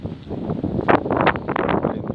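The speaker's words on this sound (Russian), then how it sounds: "Блин, ветер" Wind gusts buffet the microphone outdoors, a steady rough roar that rises and falls with the gusts while someone cuts foam board for a winter camp build, with no talking.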